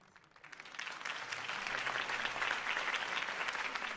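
A large crowd applauds at a political campaign rally in the Batman Telltale video game, the clapping swelling quickly from quiet to a steady, dense roar that holds without voices.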